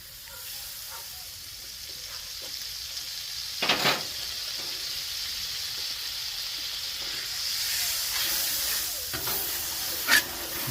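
Butter and pancakes sizzle on a hot Blackstone griddle with a soft, steady hiss, one brief louder crackle near the start and a swell of sizzling toward the end, heard alone without talk.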